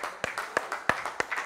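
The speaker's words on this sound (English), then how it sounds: "Give the Lord a hand clap." Church congregation clapping in unison, a steady run of sharp, evenly spaced hand claps at moderate volume with faint scattered claps between the beats.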